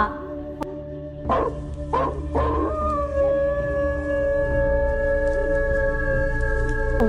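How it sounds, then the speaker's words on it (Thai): A long, mournful howl rises and holds steady over a low rumble, with a few sharp bark-like bursts before it. "เสียงเห่าหอนโหยหวนแววดังมาอีกหน"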